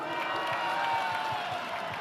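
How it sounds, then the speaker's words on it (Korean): Crowd at a protest rally applauds a city council member, a steady wash of many hands clapping with faint cheering at moderate distance, continuous throughout and without clear speech over it. "큰 박수 부탁드립니다"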